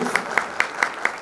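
Five evenly spaced sharp claps ring out at a business talk event in Kayseri, a rhythmic, fairly close clapping rather than a full crowd ovation.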